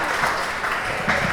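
A crowd applauds steadily for Janelle at a gathering in Los Angeles, a moderate wash of clapping holding for a moment without pause.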